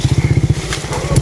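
A motorcycle on a dirt trail ride in Laguna throbs with a low, pulsing engine rumble close by, with rhythmic beats and faint crackling and scraping over roughly a second.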